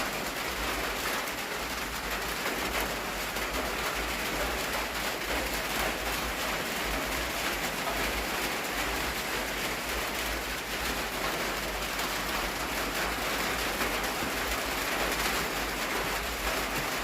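Heavy rain falling steadily in a cemetery, a dense continuous hiss without break, moderately loud and even throughout.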